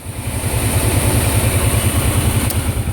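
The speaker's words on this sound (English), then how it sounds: "the fan is running." A 2008 Kawasaki Brute Force 750 ATV idles steadily up close with its cooling fan running, giving a loud, even, pulsing engine drone with a continuous airy whir on top.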